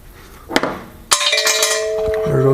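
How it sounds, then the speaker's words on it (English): A metal socket drops and clinks against a hard surface during a junkyard turbo LS engine bottom-end cleanup, a sharp strike followed by a ringing metallic rattle that fades out. "There goes the socket."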